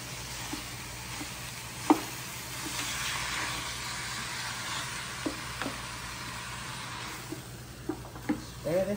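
Ground beef sizzles steadily in a pan as stuffed green peppers are prepared, a continuous frying hiss broken by occasional scrapes and clinks of a spoon stirring, close and without talk.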